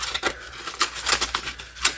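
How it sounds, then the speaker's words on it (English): A knife scrapes and taps through the crust on top of a pot pie, a series of short crisp cuts, close and moderately loud, in an irregular rhythm. "I'm going to cut a slit on top."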